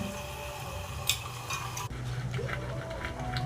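Marinated meat being stirred with a spoon in a pan of cooked-down spices, with soft scraping and clinks against the metal over a low sizzle, fairly quiet and without talk.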